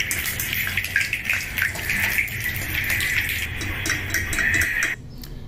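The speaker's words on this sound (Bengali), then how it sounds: "এখানে শুকনো মরিচগুলো ভেজে নেব।" Dried chillies fry in hot mustard oil, a close, steady bright hiss and crackle that holds evenly, then cuts off abruptly just before the end.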